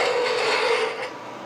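A spindle gouge cuts steadily on a wooden acorn spinning on a lathe, a continuous close rasping hiss that fades slightly near the end.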